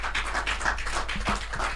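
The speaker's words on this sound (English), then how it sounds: "Make una clap for him" A studio audience clapping for someone on a Nigerian call-in program, a brief patter of scattered hand claps lasting under two seconds, moderately loud over a low background hum.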